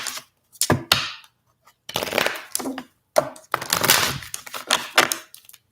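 Tarot cards shuffled by hand in several quick riffling bursts separated by short pauses, crisp papery clicks and flutters close to the microphone with no talking.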